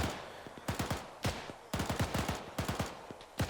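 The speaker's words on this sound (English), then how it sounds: "Looks like a lot of the guys are firing off to the right." Bursts of automatic and rifle fire from soldiers in a WWII Arma 3 battle, rapid rattling volleys in short groups with sharp repeated cracks, fairly close and loud, no talk.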